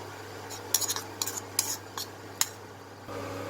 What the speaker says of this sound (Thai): เราจะเท เนื้อโกโก้สดแบบนี้ลงไปในหม้อต้มนะ